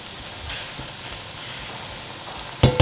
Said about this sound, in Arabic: وبنفس الطنجرة بضيف اللحمة المفرومة وبقلبها، وبحط عليها البصل اللي فرمناه وبقلبهم